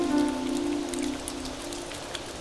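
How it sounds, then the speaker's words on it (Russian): Rain patters steadily on a surface in a Russian audio play of a Tove Jansson tale, a continuous soft drumming with a low tonal hum beneath. "дождь лил 8 недель подряд"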